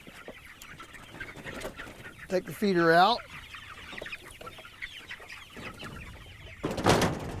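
Free-range chickens cluck and call on a pasture farm, one louder bird close by mid-clip and another burst near the end, while someone talks intermittently over the outdoor background.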